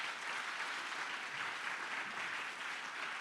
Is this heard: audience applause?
yes